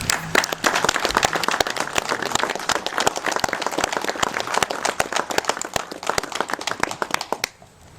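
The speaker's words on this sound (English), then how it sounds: "So again, give yourselves a round of applause also for doing that." Dense, steady applause from a crowd gathered at the ribbon cutting for the East Broad Top Railroad blacksmith shop, many hands clapping close by for about seven seconds before thinning out and stopping at the end.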